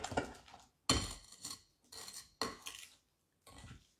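Christmas sablé cookie dough being mixed by hand in a bowl, with close scraping and clinking of a utensil against the bowl in several short bursts separated by brief pauses.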